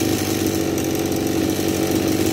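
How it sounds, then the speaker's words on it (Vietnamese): A Kubota DB262 26cc two-stroke brush cutter with a 34 mm shaft runs at a steady, smooth buzz, loud and close and unbroken throughout. "cái video mình giới thiệu cây máy cắt cỏ Kubota"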